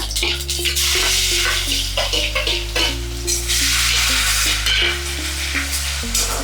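Dry red chilies, bay leaves, whole cumin and crushed garlic sizzle in hot oil for a tempering, a loud steady frying hiss that continues throughout with a low hum underneath.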